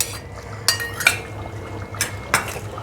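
Mutton with yogurt frying for bhuna gosht in a pan, stirred with a spoon that gives several sharp metallic clanks and scrapes against the pan over a low frying hiss.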